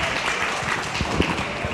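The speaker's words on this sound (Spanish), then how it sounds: "Un fuerte aplauso, por favor." Audience members at a panel discussion break into a short, dense burst of applause, steady throughout.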